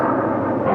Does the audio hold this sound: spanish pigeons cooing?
no